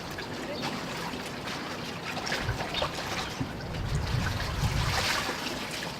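Water runs over a diving wetsuit as it is rinsed, a soft, uneven splashing and trickling close by, swelling slightly in the second half.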